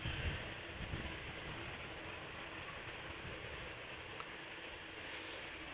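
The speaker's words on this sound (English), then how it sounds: "the EasyJet has arrived at the runway threshold" An EasyJet Airbus A319 airliner sitting at the runway threshold at Amsterdam Schiphol Airport, giving a steady, distant broadband engine roar with a low rumble that holds evenly throughout.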